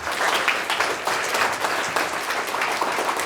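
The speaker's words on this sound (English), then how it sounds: "Round of applause." An audience at a personal branding talk gives a round of applause, a dense, steady patter of many hands clapping at moderate loudness with no talking over it.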